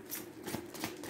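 Tarot cards being shuffled by hand, a quick run of soft papery riffles and flicks close by, no talking.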